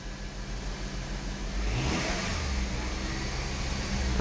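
A 2009 Honda CR-V engine with engine issues runs close by, idling steadily before revving up into a louder, sustained roar.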